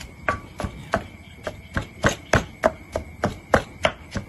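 Shallots and garlic pounded in a mortar, a steady series of about fourteen sharp, close thuds at a regular, slightly quickening rhythm, with no talk.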